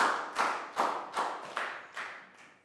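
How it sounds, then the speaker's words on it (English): A class of children giving a round of applause during a Year 3 maths lesson, heard as a handful of sharp, separate claps or taps spaced about every half second, fairly faint and fading. "Big round of applause for that."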